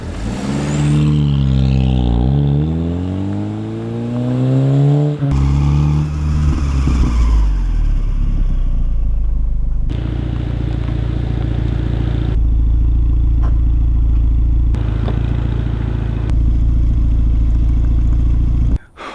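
Volkswagen car driving down a road, engine note rising through gears early on, then a steady loud interior drone with road rumble, continuous and close.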